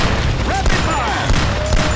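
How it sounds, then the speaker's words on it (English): Rapid gunfire in the video game Cabela's Survival: Shadows of Katmai, a dense continuous burst of shots filling the whole stretch at steady loudness. "Rapid fire."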